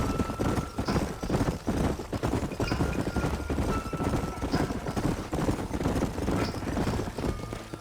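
Horse hooves clip-clop steadily on the ground in the Red Dead Redemption video game, several mounts riding together in a continuous dense rhythm, with faint distant gunfire-like cracks in the mix.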